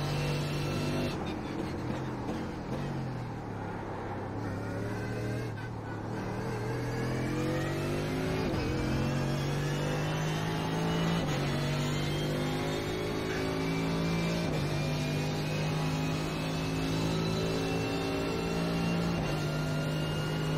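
ACR Zakspeed Mercedes GT3 race car in iRacing, its engine droning loudly and steadily, rising through the revs and dropping with each gear change over a long stretch of driving.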